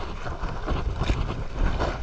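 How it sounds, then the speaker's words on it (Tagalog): Strong wind buffets a small fishing boat out at sea on big waves, a steady loud roar of rushing air and water with constant microphone rumble and no clear talk. "Malakas ang alon, mahangin."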